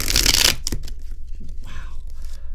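Oracle cards being shuffled by hand, a dense riffling burst at the start followed by quieter scattered card handling with faint background noise.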